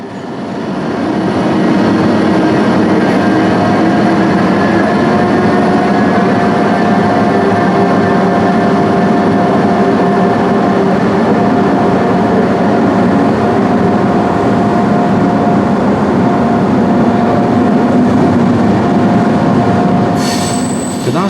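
DSB EA class electric locomotive 3020 pulls out of Østerport station with empty stock, a loud, close, steady rolling rumble with sustained wheel squeal tones holding for about twenty seconds.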